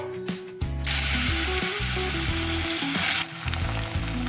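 Potatoes frying in oil in a pan give a loud, continuous sizzle, with the clatter and scrape of a utensil and a faint mechanical ratcheting underneath.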